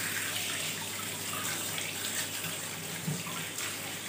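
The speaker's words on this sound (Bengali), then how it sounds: "এই যে ফল কটা রয়েছে এই কটা একটুখানি ধুয়ে রাখবো" Tap water pours steadily into a basin while fruit is rinsed under it, a constant close rush of water with faint splashing and no talking.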